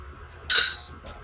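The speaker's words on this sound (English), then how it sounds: "And then I'm gonna grab a whisk." A metal whisk is picked up in a kitchen and gives a single bright, close clink that fades quickly, followed by a softer tap.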